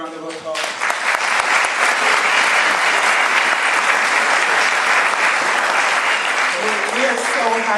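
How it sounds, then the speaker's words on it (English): Loud, steady audience applause for a community award honoree fills the space after a brief opening moment, continuous clapping from a sizable crowd with a faint voice near the end. "So please give Kevin another round of applause."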